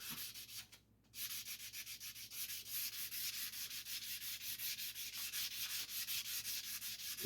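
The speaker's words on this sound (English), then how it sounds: "So I'm going to wet sand it first." Wet sanding of a 1951 Chevy truck dash with 600 grit sandpaper: fast, even back-and-forth rubbing strokes close up, with one brief pause near the start before steady rhythmic scrubbing resumes.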